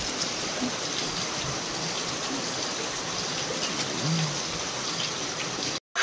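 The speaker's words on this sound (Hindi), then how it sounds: "सुबह सुबह बहुत ज़्यादा बारिश हो रही है यहाँ पे, तो बाढ़ आ जाएगा लग रहा है, इतना ज़्यादा पानी बह रहा है ये।" Heavy morning rain pours steadily with water rushing and flowing nearby, a constant dense hiss that cuts out briefly right at the end.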